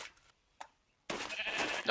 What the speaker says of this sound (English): Oh, there's sheep!